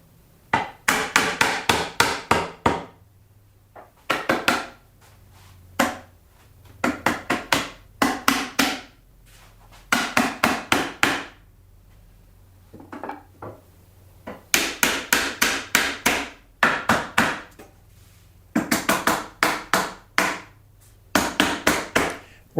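A small mallet taps wooden parts of a large three-tier plant stand together for gluing and clamping, in loud, close bursts of rapid knocks separated by short pauses, repeated many times.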